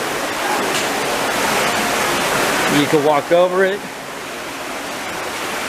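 A backyard water feature pours under a small bridge into a waterfall that feeds a pool, giving a steady close rush of splashing water while someone speaks briefly over it.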